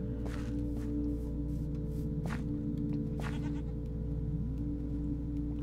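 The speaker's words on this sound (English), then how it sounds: "Oh, it's a goat." Short goat bleats from Minecraft repeat at intervals over a constant droning background hum, each call brief and moderately loud, with light footstep-like taps between them.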